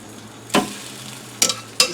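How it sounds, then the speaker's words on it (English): Chicken thighs laid skin side up into a hot pan, three short bursts of sizzling crackle as each piece hits the surface, close and moderately loud over a low background hum. "You can hear them sizzle when they hit the pan"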